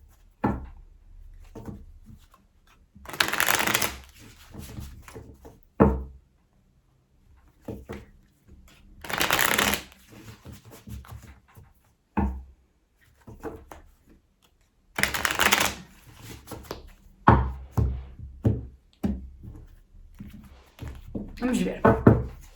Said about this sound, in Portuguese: eu estou aqui a baralhar o nosso Secoli Tarot